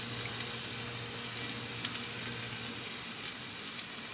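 A flat iron steak frying in a pan with rosemary, giving a steady, close, hissing sizzle with faint crackles and pops throughout, no talking.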